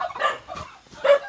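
A dog at a rural Filipino house with many dogs and chickens gives a few short barks and yips, close by, in three quick bursts.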